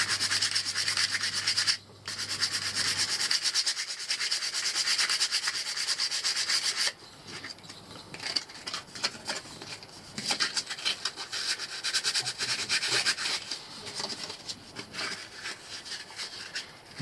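A fishing float rounded by hand sanding, brisk close rubbing strokes, steady at first then in shorter rhythmic bursts, with no talking.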